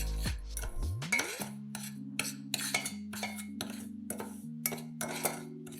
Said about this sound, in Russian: В сотейник насыпаем 4 столовых ложки сахара и 3 столовых ложки какао. Все перемешиваем в сухом виде